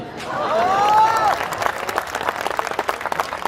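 An audience at a Hindi comedy poetry gathering applauds, a short burst of clapping that thins into scattered claps with voices underneath.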